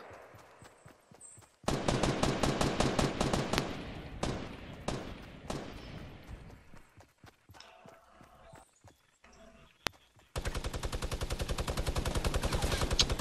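Minigun fire in the video game Fortnite comes in long, loud, rapid bursts of evenly spaced shots, one lasting several seconds and another running to the end, with quieter scattered gunfire and voices in between.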